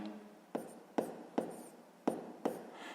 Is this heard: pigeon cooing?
no